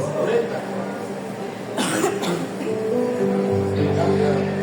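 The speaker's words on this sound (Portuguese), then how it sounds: "Estou tossindo bem mesmo." A person coughs a couple of times in harsh bursts midway, with faint background noise around, during a church family service.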